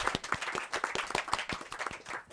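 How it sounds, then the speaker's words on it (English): An audience at a science-for-the-city talk on the circular kitchen claps for a speaker, a modest, close burst of individual claps with an uneven rhythm lasting about two seconds. "So give a warm applause to Saskia Mulder"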